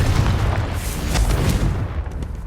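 A Confringo fire-blast spell erupts in Hogwarts Legacy, a loud booming explosion with a broad rumbling roar that holds steady for a couple of seconds before easing slightly at the end, with no talking.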